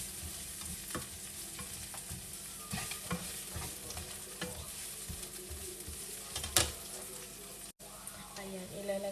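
Onion sautéing in a pan for carbonara, a steady soft sizzle with scattered stirring scrapes and clicks of a utensil against the pan, moderately close, with no talking.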